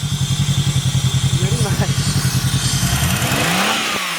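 A Polaris 1000cc race car engine idles with a fast, even pulsing chug, then revs briefly and settles, loud and close.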